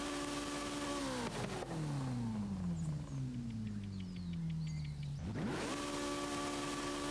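A car engine in Forza Horizon 5 revs steadily while the car is stuck, a continuous loud droning whine that sags lower midway, then climbs back up. No one speaks.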